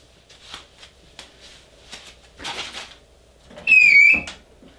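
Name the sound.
squeaky machine needing oil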